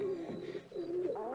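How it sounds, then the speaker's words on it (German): Pigeons coo in low, throaty, rolling calls, two or three phrases close by, with no talk. "Ich glaube, die Tauben wollen eine Runde schnäbeln und wir stören dabei."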